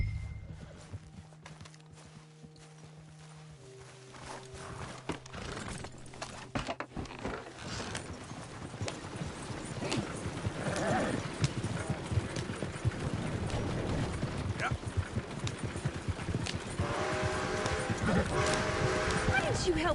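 Horse hooves clip-clop at a walking pace in a video game, a steady, fairly close clatter that builds over time, with a faint background score and no speech.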